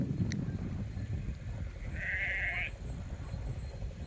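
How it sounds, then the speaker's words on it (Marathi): A flock of about a hundred sheep moving along a village path, a single faint bleat rising over a low, steady rumble of trampling hooves and background noise, heard from a distance. "कशा घराच्या वाट्याने मेंढ्या अशा तडा तडा तडा तडा चाललेल्या आहेत"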